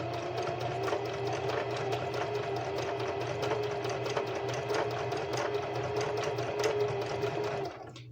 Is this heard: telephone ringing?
no